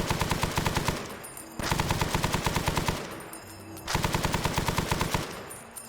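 A gun fires in Arma 3's Prairie Fire DLC, loosing three long bursts of rapid automatic shots with brief pauses between them.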